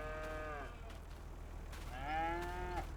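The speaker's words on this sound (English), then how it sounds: "Those good-looking cows right there." Cows moo twice in a farming video game, each a drawn-out, mid-distance low call, one near the start and another near the end, over a steady soft background hum with no talking.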